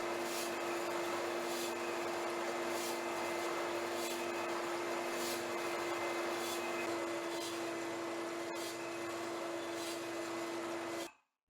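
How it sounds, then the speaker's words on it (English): An Irvine tester machine runs an abrasive wear trial on a 500-cycle test, giving a loud, steady mechanical whir with a constant hum and faint regular ticks before it stops abruptly at the end. "100 grams of abrasive are introduced inside the machine, and then the trial is launched for 500 cycles."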